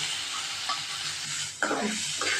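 Urad dal and shredded cabbage sauté in a pan, a constant sizzling hiss with occasional scrapes of a spoon stirring.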